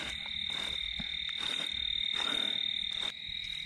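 Frogs croak in a dense, continuous chorus across flooded rice fields on a rainy night, a steady high-pitched trilling wall of calls with louder nearby croaks pulsing through it.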